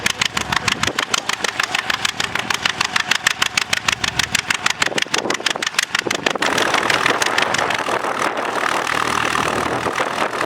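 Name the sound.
1935 John Deere AO tractor engine running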